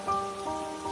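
Rain pours steadily on a stormy night, a dense, even hiss of drops on surfaces with faint tonal hum underneath, close and continuous with no voices.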